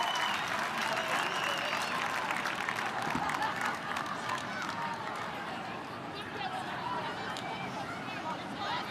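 Loud, sustained roar of a rugby stadium crowd cheering and clapping for a local Newcastle player at a Wallaroos v Black Ferns match, with a broad, constant swell and commentary voices beneath.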